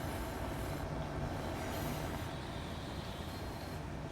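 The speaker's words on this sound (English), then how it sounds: "So we've got the DMU coming into Eastleigh Station there." A DMU train rolls into Eastleigh Station in Transport Fever 2, a steady, loud rumble of rail noise that lasts throughout, with no voices over it.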